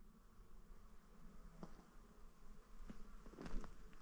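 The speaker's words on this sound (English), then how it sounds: "can you hear the bees?" Quiet outdoor ambience on a sunken track in the Quantock Hills with bees buzzing around, a low drone that swells as some pass closer.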